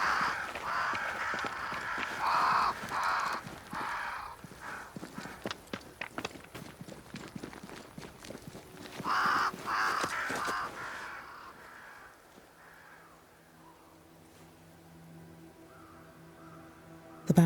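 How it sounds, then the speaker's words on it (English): Crows cawing in the video game Banishers: Ghosts of New Eden, several harsh caws in bursts near the start and middle among clattering ambient sounds, fading to quiet low hum at the end. "Crows. They flock to that great tree up there."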